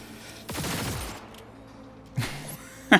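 A weapon in Cyberpunk fires a rapid burst of shots up close, the rattling volley trailing into a fading echo, followed by a couple of sharper isolated bangs.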